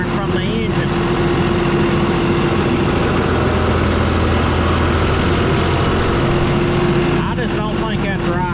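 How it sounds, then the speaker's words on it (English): A loud, steady John Deere tractor engine idles with a rough, rattling chatter running through it from a suspected engine fault, close by and continuous. "you'll hear some rattling and chattering from the engine."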